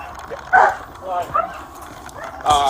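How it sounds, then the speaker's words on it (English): Two small dogs bark sharply and intermittently, a few loud yaps close by, during a police foot chase, with voices talking in between. "Angel, he's running westbound with the two little dogs"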